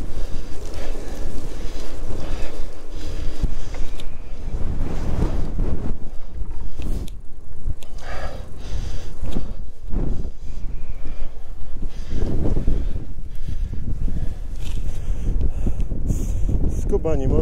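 Strong wind buffets the microphone beside open water at Zakrzówek, loud rumbling gusts that rise and fall, with someone talking over it at times.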